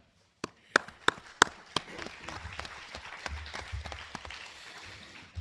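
Applause at a city council debate, opening with a few loud separate claps that build into a steady round of clapping from a seated audience, continuing throughout.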